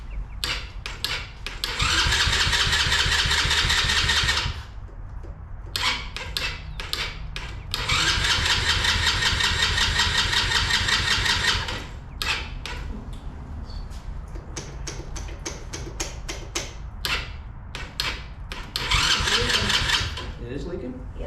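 An ATV engine cranks and catches in repeated bursts, revving hard for a few seconds and then dropping back to a rough idle between stretches, up close, while people talk over it.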